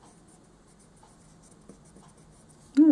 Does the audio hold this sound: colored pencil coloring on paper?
yes